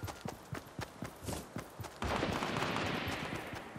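Gunfire in the video game Fortnite: a run of sharp, rhythmic shots at mid distance, then a dense, continuous burst of noisy firing that fills the second half.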